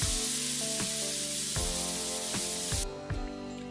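A pressure cooker on the stove, cooking carrot halwa over a low flame, lets out a loud, steady hissing whistle of escaping steam that cuts off sharply near the end.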